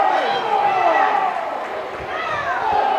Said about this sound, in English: The crowd is a little outraged because I thought it wasn't going to be a call.